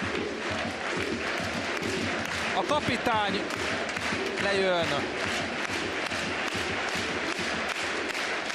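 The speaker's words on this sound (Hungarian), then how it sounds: "mindenki felállva tapsol a Diósgyőr stadionjában" A football crowd in the Diósgyőr stadium stands and applauds as captain José Juan Luque Jiménez is substituted off in his final match against Pápa, a steady, dense wash of clapping and crowd noise under someone commentator's voice.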